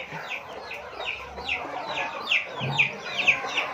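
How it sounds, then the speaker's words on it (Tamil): Newly hatched turkey chicks give a rapid run of high, thin peeps and cheeps, close by and steady, with the calls overlapping for the whole stretch. "ஸோ வானக்கோழி குஞ்சு பொறிச்சிருச்சு"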